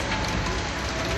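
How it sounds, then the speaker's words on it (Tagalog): Hail falling in Riyadh, a dense steady clatter of ice pellets striking surfaces, loud and continuous without break, with faint voices in the background. "Umulan ng yelo."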